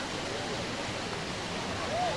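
A waterfall in Wales, swollen by recent floods, gives a steady, close, broadband roar of rushing water that stays constant throughout.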